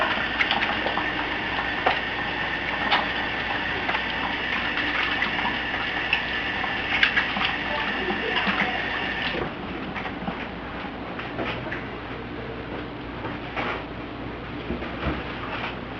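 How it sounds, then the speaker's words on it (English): Hands being washed under a running kitchen tap while making meatloaf, a steady broadband rush of water lasting throughout, fairly loud and close, with the flow changing character partway through. "Wash my hands real quick"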